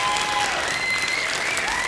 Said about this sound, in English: I want everyone to clap it up as loud as you possibly can.